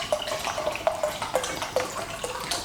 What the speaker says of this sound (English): now I'm going to continue filling the Eureka chamber up to the top.